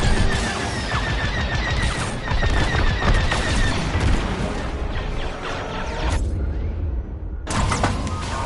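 Starfighter blaster fire striking a ship in Star Wars: Squadrons, a dense barrage of loud impacts and crackling bursts with engine roar, briefly cutting out near the end before resuming.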